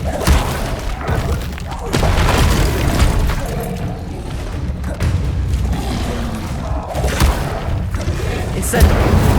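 A fiery Incendiary spell blast in the video game Hogwarts Legacy: loud, heavy booming bursts over a continuous roaring rumble, with several surges of force across the stretch.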